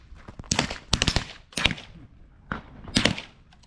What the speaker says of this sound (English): The range is hot. You may commence firing.